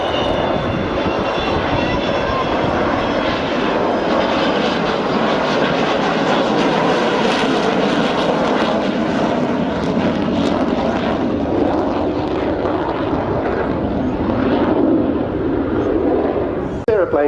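An Avro Vulcan B2 bomber flies past at an airshow, its jet engines giving a loud, continuous roar that holds steady for the whole stretch, with no voices over it.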